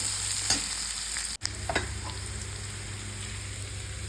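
Onions with a little turmeric and salt fry steadily in a pan, a continuous close sizzle with a few spatula scrapes and clinks, briefly interrupted once by a short dropout.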